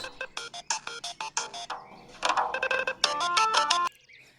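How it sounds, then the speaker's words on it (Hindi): A mobile phone ringtone plays loud and close in a quiet outdoor spot away from the city, a rhythmic electronic melody of bouncy pulses that swells into a sustained tune before cutting off. "तुम्हारा मोबाइल बज रहा है।"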